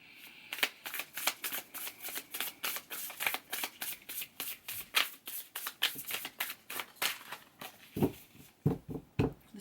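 Tarot cards are shuffled in quick repeated riffling bursts, a steady rhythm of crisp close flutters for nearly ten seconds, fairly quiet, ending with a few sharper snaps.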